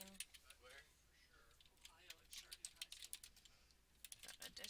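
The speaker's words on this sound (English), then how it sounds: "if I can type" Typing on a computer keyboard produces quick, light clicking keystrokes in irregular bursts, fairly close and quiet, with a brief pause near the start before the tapping resumes.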